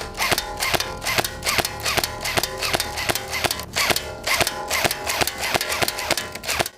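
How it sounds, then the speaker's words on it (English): Airsoft gun pellets striking homemade metal shields in rapid succession, a steady string of sharp, loud metallic cracks roughly every quarter second, close up with no talking. "On the metal, the pellets hit and they burst completely."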